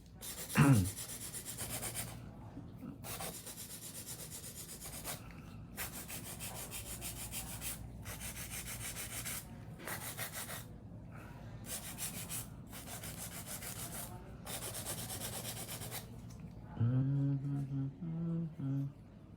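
Acrylic nail being filed and shaped with a file, a steady run of close rubbing strokes in short rhythmic bursts with brief pauses between them, and faint talk near the end.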